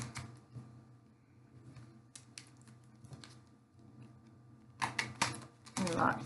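Tarot cards are shuffled by hand in quiet bursts of soft flapping and riffling clicks that grow louder toward the end, with a low voice murmuring between them.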